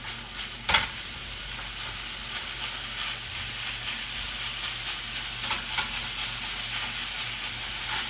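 Ground meat browning in a hot pan gives a steady, close sizzle and crackle that runs the whole time, with a sharp clatter near the start as the meat gets stirred and broken up.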